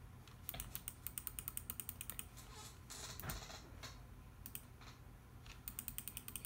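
A computer mouse clicks faintly in quick, uneven bursts during a game of Cookie Clicker, with a soft background hum and no talking.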